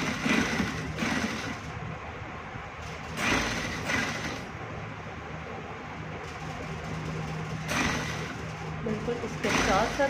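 An electric sewing machine stitches fabric for a men's kurta in bursts of rapid mechanical whirring, three or four separate runs, while a voice talks steadily throughout.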